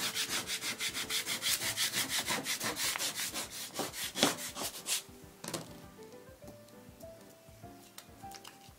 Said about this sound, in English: now we just want to use a squeegee of some kind to get the vinyl to adhere